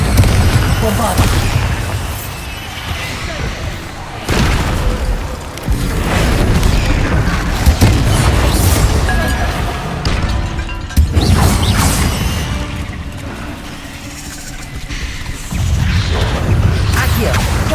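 Heavy booming blasts from the Bombarda spell in the video game Hogwarts Legacy, several loud explosive bursts with crashing debris, spaced across the stretch over rumbling game sound.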